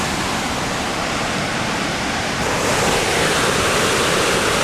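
A powerful river in Banff National Park rushes past below a lookout, a loud, continuous broadband roar of white water that swells slightly midway, with no voices.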